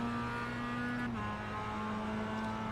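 A Mazda MX-5 race car engine in the iRacing game drones at steady, moderate revs with a sustained tonal hum, dipping briefly partway through, faint and continuous with no talk.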